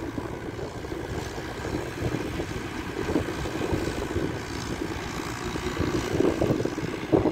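Massey Ferguson 290 tractor tilling a dry field, a steady low engine rumble throughout with rough mechanical clatter, heard from a moderate distance with wind noise.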